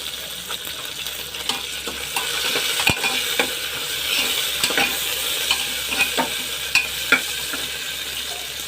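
Onions and garlic leaves stir-fry in a hot pan with a steady close sizzle, and a spatula scrapes and taps the pan at irregular intervals.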